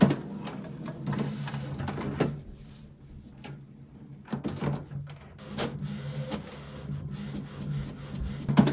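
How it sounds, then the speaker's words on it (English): An HP Smart Tank 5103 inkjet printer runs a print job, with close, uneven mechanical rubbing, clicks and paper-feed thumps repeating at irregular intervals. "simply press the blue button and the print should start"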